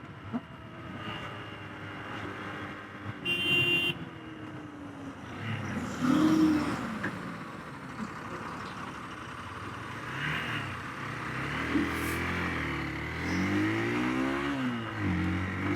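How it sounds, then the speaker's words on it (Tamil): A red car approaching from behind on a highway, heard as a steady road and engine roar under wind noise, with swelling passes of vehicles and a lorry nearby. "பின்னாடி ஒரு ரெட் கலர் கார் வருது."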